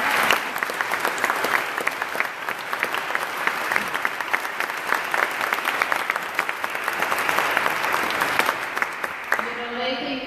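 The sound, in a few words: audience applause after music festival performance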